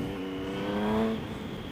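Motorcycle engine revving up and easing off while overtaking a driving school car, a steady close drone with rising pitch.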